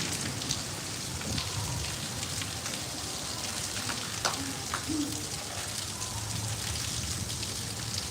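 Heavy rain pours steadily in a dense, even hiss with scattered drip and splash details, with no voices, during a storm that has been falling since seven o'clock.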